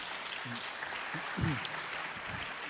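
Audience clapping at a conference fills the clip as a dense, steady patter, with a few murmured voices rising through the applause.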